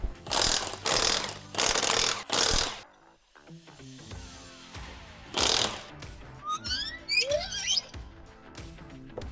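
Loud bursts of a pneumatic impact wrench come in several strong blasts with quieter clicking and ratcheting between them, as a wheel comes off a C8 Corvette Z06.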